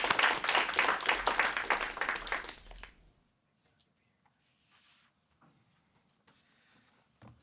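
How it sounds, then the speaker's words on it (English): An audience at a College of DuPage African American Read-In applauds a speaker being introduced. Loud, close clapping lasts about three seconds, then stops abruptly into near silence with only faint stray noises. "let's give a round of applause for Dr."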